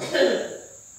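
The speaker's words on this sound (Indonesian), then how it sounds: "Maaf, itu ada yang batuk." A single short cough or throat-clear from a woman in a room, brief and fairly loud near the microphone, fading quickly.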